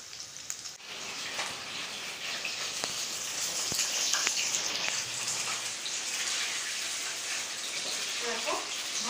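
Chicken pakora frying in oil gives a continuous close hiss and crackle with occasional sharp pops and louder surges, as though pieces are being stirred or lifted out.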